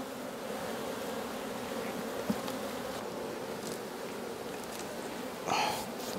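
Agitated honeybees at an opened hive during a varroa mite count give a steady, dense buzzing that surrounds the listener, with one brief louder pass of a bee near the end.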